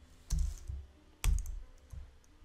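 Keys clack on a computer keyboard: two separate bursts of a few quick taps, close and fairly soft, with quiet gaps between them.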